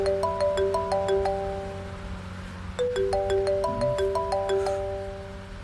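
A mobile phone ringtone plays a bright, repeating melodic chime pattern, two full cycles with a brief pause between, fairly near and clear over a quiet room.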